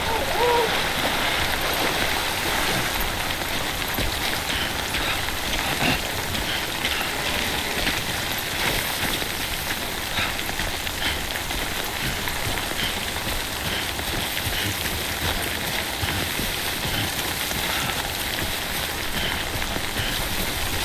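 Timefall rain in Death Stranding falls in a steady, dense patter across the ground, loud and unbroken, with a faint background voice now and then.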